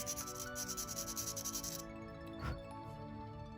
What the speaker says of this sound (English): glaze comes off relatively easily, so you don't have to sand too hard.